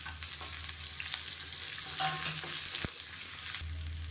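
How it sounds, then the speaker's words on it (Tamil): Onions sauté in hot oil with mustard seeds, cumin and curry leaves for a chutney, giving a steady close sizzle and crackle with a faint stir and one sharp tap of a utensil, no talking. "இப்போ வெங்காயம் நல்லா கொஞ்சம் ப்ரௌனாக வர ஆரம்பிச்சிருச்சு"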